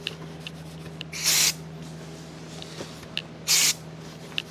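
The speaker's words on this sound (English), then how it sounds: "clean this up with brake clean so we don't have any oil or anything in there" Two short bursts of brake cleaner spray on the oil pan of a Cummins 855 Big Cam III engine, each about a quarter second of loud, close hiss over a quiet shop background.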